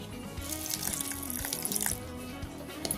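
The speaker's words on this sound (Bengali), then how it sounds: "এবারে দিয়ে দিচ্ছি অল্প জল" A little water poured onto raw rice and grated coconut while making batter for patishapta, a steady close splashing trickle lasting a few seconds with no voices.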